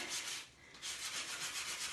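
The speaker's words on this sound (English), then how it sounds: "if you run it over the surface kind of flat and even, it makes that whole embossed area kind of pop" A sanding block rubbed flat and even across embossed scrapbook paper, giving soft, close, rhythmic scratchy strokes with a brief pause mid-stroke, alone and without talking.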